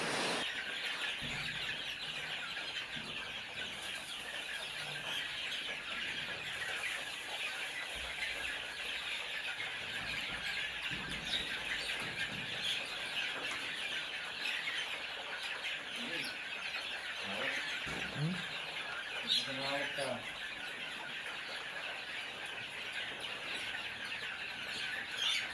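Two-month-old chicks on a farm flock peep and squeal continuously, a dense high chorus of many birds close by, with brief lower-pitched calls and faint background noise throughout.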